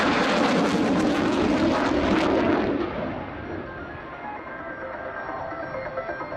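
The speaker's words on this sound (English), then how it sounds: "the jet has been slowing down" A supersonic combat jet roars loudly and broadly, then the sound dips after a few seconds into a steadier, quieter rumble with a thin whine as it slows, with no talking.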